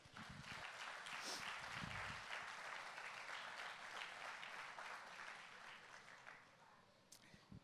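A church congregation claps together in sustained, fairly faint applause that swells and then tapers off over several seconds, with some voices mixed in.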